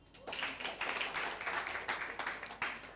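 An audience claps for a speaker at a talk, a quiet, fairly distant patter of many hands that swells and fades in uneven bursts over three seconds.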